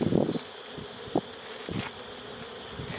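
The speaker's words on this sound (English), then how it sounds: "there's a whole bunch of bees sitting right here" Honeybees buzz steadily close by at a hive, a constant insect hum with a few brief louder passes.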